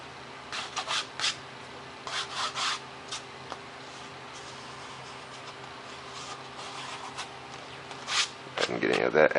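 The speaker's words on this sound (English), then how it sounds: "get any of that excess glue off there" Excess glue is rubbed off a foam model airplane wing in short, soft scraping strokes, quiet and close, in bursts with pauses, ending with a louder rustle.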